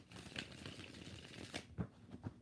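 Tarot cards riffle and slap softly in a quiet shuffle close by, a run of light papery flicks ending in a few sharper taps.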